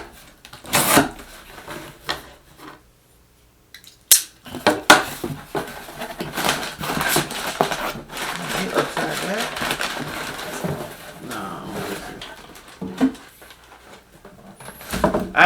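An Off-White sneaker box being opened, with cardboard scraping, paper crinkling and rustling in bursts of handling close by, some quiet pauses between.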